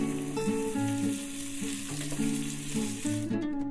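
Ginger-garlic paste and curry leaves frying in a pan for dhaba-style tomato kurma, a continuous close sizzle with stirring scrapes, under a steady background tone, no talk.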